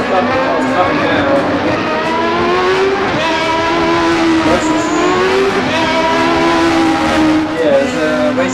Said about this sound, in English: We've got the ASR Formula 1991 cars running around